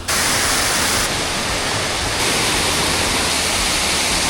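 Waterfalls in a waterfall park near Yogyakarta pour with a loud, steady broadband roar of rushing water, close and constant with no voices.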